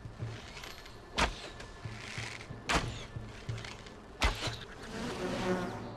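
Bees buzz around the player in the fantasy survival game Enshrouded, with a low hum broken by three sharp, loud bursts spaced a second or so apart.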